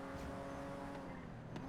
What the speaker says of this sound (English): there's going to be a stolen car flying past us